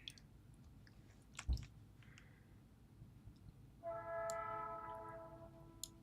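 A train passes in the distance and sounds a sustained horn blast over a faint, steady rumble. Quiet scattered clicks come from nearby.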